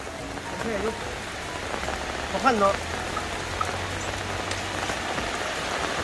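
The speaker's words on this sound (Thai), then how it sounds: "ฝนตกแรงมาก" Heavy rain pours down steadily on a surface, a dense continuous hiss throughout, with someone speaking briefly over it near the start and middle.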